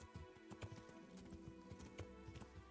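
Horse hooves clip-clop in the medieval video game Kingdom Come Deliverance, a steady run of close, moderately loud hoof beats with a faint whinny mixed in, and no talking.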